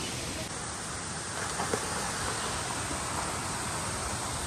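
A constant wash of rain on Yeoor Hills, Thane, dense and even, hissing across surfaces with no pauses.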